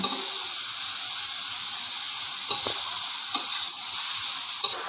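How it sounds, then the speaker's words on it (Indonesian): Mushrooms frying in a pan with a steady broadband sizzle throughout, broken by a few soft scraping stir strokes from a utensil, no talking. "Kita masukin jamurnya ya. Kemudian kita aduk sampai matang."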